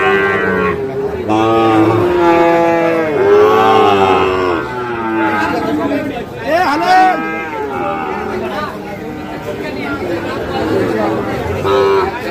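Cattle mooing at a crowded cattle market ahead of Qurbani in Chattogram, several long, loud bellowing calls one after another throughout, with crowd chatter beneath.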